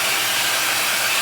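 A MonoMono Dreamworld hair dryer runs steadily close by, a loud, even airy whoosh with a broad hiss that holds constant from start to finish with no talking.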